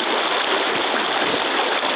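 Steady broadband rush of the South Platte River flowing about a mile above Deckers in winter, a close, continuous stream roar with no pauses and no voices.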